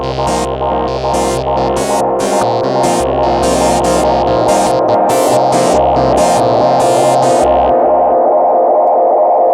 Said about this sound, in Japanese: なんか往年のこのテープエコーみたいなこの感じがいいね。